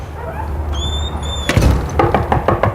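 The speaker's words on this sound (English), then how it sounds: "Knocking on the door." Knocking on a door comes as several sharp thuds in quick succession after a few high chirps, near and fairly loud over low background rumble.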